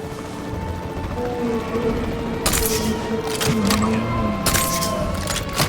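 Tranquilizer shots fired from a capture team helicopter in Jurassic World Evolution 3, a few sharp bursts of cracks over a steady rotor drone and game ambience.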